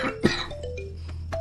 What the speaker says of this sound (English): I have a cough.